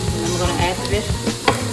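Vegetables hit a hot griddle beside blackened chicken and shrimp, producing a loud, dense, close sizzle with a few brief scraping taps and no talking over it.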